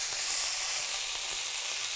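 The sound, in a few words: chicken sizzling in a hot pan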